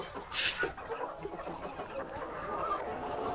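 Chickens in a snowy winter coop give agitated clucks and squawks close by, over a busy background of poultry chatter.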